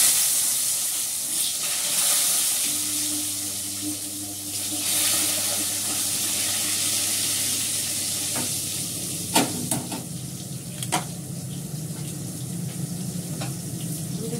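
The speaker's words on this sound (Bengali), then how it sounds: "আগে সবার প্রথমে পটলটা ভেজে নিই।" Pointed gourd frying in an iron wok, a steady close sizzle with a low hum underneath and a few sharp clinks and scrapes of stirring toward the middle.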